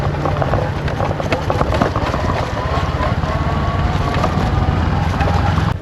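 A motorbike rides along a small, dry dirt path, its engine running steadily and loud with heavy wind buffeting the microphone throughout.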